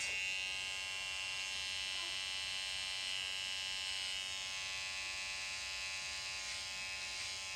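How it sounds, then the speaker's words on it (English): An electric hair trimmer buzzes steadily and close up while cleaning up a man's neckline below the hairline, a constant whirring drone with no pauses. "And then you just shave this all off down there."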